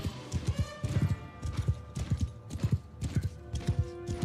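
Horses galloping in a High Elf mod of a fantasy battle game, a steady rolling clip-clop of many hooves moving fast, close and loud, with a faint whinny near the end.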